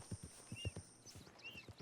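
Horse hooves clip-clop at a walking pace in Red Dead Redemption 2, a steady rhythm of soft thuds close by with faint ambient game sounds behind.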